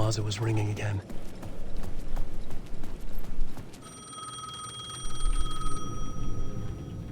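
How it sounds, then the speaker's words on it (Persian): An old telephone rings repeatedly in the survival horror game Alan Wake 2, with a steady ringing tone over dark ambience and game sounds. "دوباره داره زنگ میخوره اون تلفنه."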